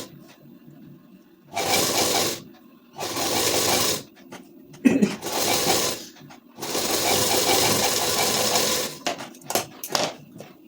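A sewing machine runs in long bursts, double-stitching the sleeve seam of a ladies suit, with a few short pauses and stops between runs. It is close and loud, and no one speaks.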